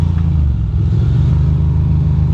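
A Ducati Monster 620 motorcycle idles and rolls slowly to a stop on a rainy Brooklyn street, a steady close, low engine rumble with little change in pitch.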